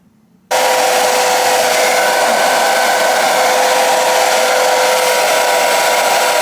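A hair dryer switches on abruptly and keeps blowing loudly and steadily while drying a 30-inch chocolate full frontal lace wig, with no talking.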